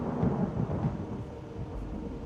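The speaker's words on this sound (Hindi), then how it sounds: "घर जाओ बेटा, बहुत भयानक तूफान आ रहा है।" Deep rolling thunder from an approaching heavy storm, a steady low rumble that swells early and then holds at a constant level for a couple of seconds, with no voices.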